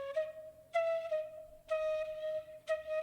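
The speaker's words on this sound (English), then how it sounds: "so the next thing I have here is this flute phrase" A dry flute phrase of four sustained notes at nearly the same pitch, with short gaps between them, played alone.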